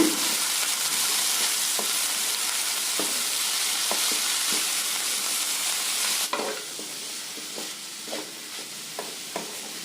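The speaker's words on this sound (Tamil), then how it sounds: "நல்லா இந்த வெங்காயத்தோடையும் இந்த எண்ணெயோடையும் நல்லா பரட்டி விடுங்க." Spinach being stir-fried with onions in oil, a steady loud broadband sizzle with intermittent scraping stirs, the sizzle easing partway through while spatula knocks continue.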